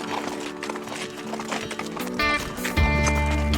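A horse's hooves clop on loose gravel while it walks down a steep mountain trail during a trek in Kyrgyzstan, the uneven steps close and loud under rustling, with a brief whinny-like tone near the end.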